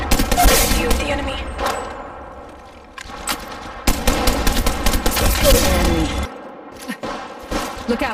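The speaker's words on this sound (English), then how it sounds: "Getting shot at." Gunfire in a mobile shooter video game, repeated bursts of rapid automatic fire with short pauses between, loud and close with some echoing booms.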